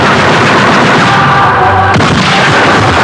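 Gunfire in a film, a dense, loud barrage of shots blurring into a continuous roar, with one sharper crack standing out near the middle.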